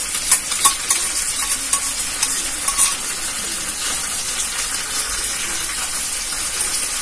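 Chili soybean sauces (soy, green chili and tomato sauce) stirred in a frying pan in a Bengali village kitchen: steady scraping and stirring over a continuous hiss of sizzling, close and moderately loud, with no talk.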